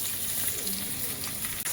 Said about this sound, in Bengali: এবার আমি এর মধ্যে পেঁয়াজগুলো দিয়ে দেব।